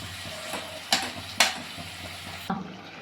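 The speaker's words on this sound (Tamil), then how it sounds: "இறாலை போட்டு நல்லா வெங்காயம் தக்காளி தொக்கோடு போட்டு இறாலை வதக்கி வதக்கியாச்சு" Prawns sautéing in a pan with onion and tomato paste give a steady close sizzle, broken by a few sharp scrapes and clicks from stirring.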